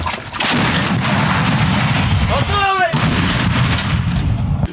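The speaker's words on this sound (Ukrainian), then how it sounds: "на Бахмутському напрямку продовжує працювати українська артилерія" A single heavy Ukrainian artillery gun fires with a deep, booming blast amid constant low rumble near Bakhmut, followed by a faint whistling sweep.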